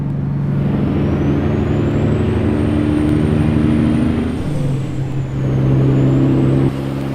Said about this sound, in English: You can quit hitting the brakes.